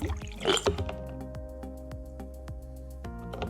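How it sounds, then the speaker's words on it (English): Water poured out of a snow globe during a repair, with a splashy gush early on, then a slow series of distinct drips falling at irregular intervals, close and fairly quiet. "So I'm gonna pour this out."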